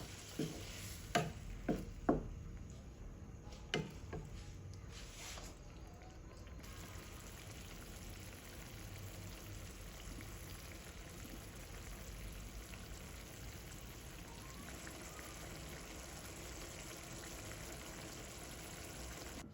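Water with sardines simmers in a pan, a faint, steady bubbling hiss throughout, with a few sharp clinks and taps near the start, no voices.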